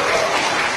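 Audience applause at an Indonesian parliament (DPR) hearing, a dense, steady wash of many hands clapping together, loud and continuous for under a second.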